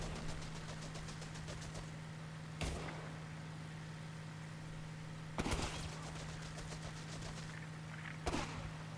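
Gunfire in the World War II strategy game Company of Heroes 3, three sharp bursts standing out over a steady low engine drone and a dense battle bed, with a rapid machine-gun-like rattle early on.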